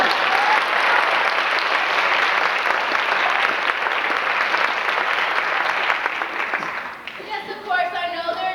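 An audience claps steadily for about seven seconds of dense, sustained applause at a stage play, which thins and fades near the end as a voice begins over the dying claps.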